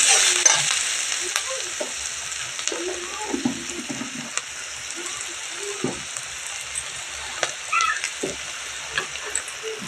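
Drumstick flowers sauté in a pan with a steady, bright frying sizzle, punctuated by occasional stirring clinks and scrapes from close by, with no voices.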